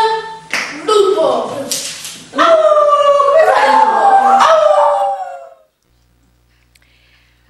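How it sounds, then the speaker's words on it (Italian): A wolf howl sound effect plays during a spoken story about a wolf and a brick house. Short yelps are followed by a long, rising and falling howl that fades to silence. "E nei paraggi si aggira un lupo."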